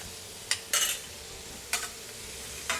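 Butter sizzles softly on a hibachi-style flat top griddle while a spatula scrapes across the metal in four sharp, brief strokes.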